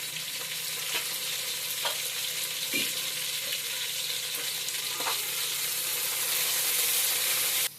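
Onion and carrot with added coriander and mint frying in a pan for pulav, a loud, steady sizzle broken by periodic scrapes and knocks of a stirring spoon, ending abruptly.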